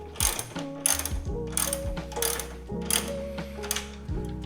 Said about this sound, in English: Then go ahead and use your 14mm socket to tighten it down.